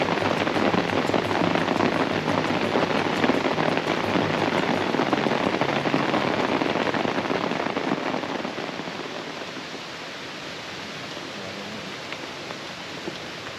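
Heavy rain falls steadily through the night on a canoe-expedition campsite by a river, a dense, even, continuous hiss that eases slightly toward the end, with no voices.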